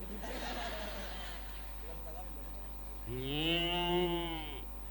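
After some breathy vocal noise, a person gives a single long, low, nasal moo, imitating a cow, close and fairly quiet.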